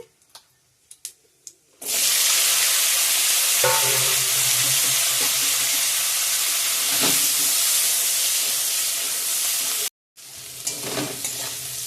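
Whole spices hit hot oil for tempering in a vegetarian paneer and cauliflower-potato dish, a sudden loud sizzle that roars steadily for about eight seconds with a few stirring clinks, cuts off briefly, then resumes more faintly.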